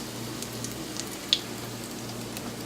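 Zucchini blossom pancakes fry in hot oil with a low, steady sizzle, soft and continuous throughout, broken by one small sharp pop near the middle.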